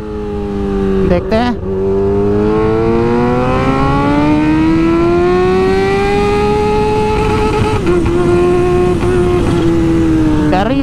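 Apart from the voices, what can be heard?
Kawasaki H2 Carbon motorcycle at full throttle in second gear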